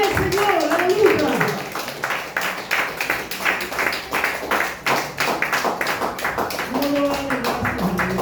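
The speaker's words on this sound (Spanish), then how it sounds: "Den aplausos al Señor" Congregation in a church clapping in steady rhythmic applause throughout, with an excited preacher's voice and shouts carrying over the clapping.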